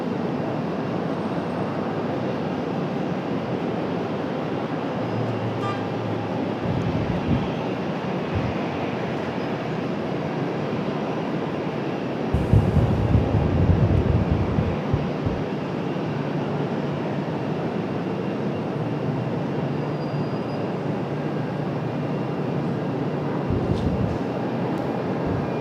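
A Frontier Airlines jet bound for Miami takes off from Raleigh-Durham International Airport, heard as a sustained, moderately loud low engine rumble with a few stronger surges and a louder swell midway.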